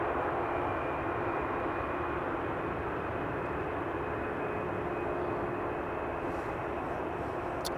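An aircraft engine drones steadily at Amsterdam Schiphol Airport, a continuous broad roar that holds level throughout without a break.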